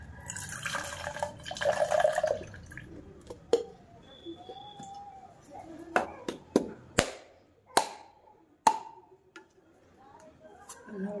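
Water is poured into a container in a brief gush at the start, followed by scattered drips and light taps in a quiet outdoor village setting.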